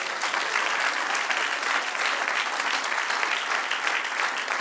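A church congregation applauds, a loud, dense and sustained clapping from a large crowd that holds steady throughout without pause.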